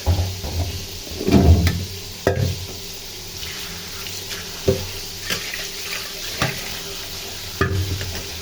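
Rohu fish pieces frying in a pan give a low steady sizzle, broken by sharp clinks and scraping knocks of utensils at irregular moments, close and fairly loud, with no talking.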